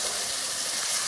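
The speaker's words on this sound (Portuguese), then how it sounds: "Tô fritando o tomate," Tomatoes frying in a pan give a steady, soft broadband sizzle and hiss, constant and close, with no one speaking.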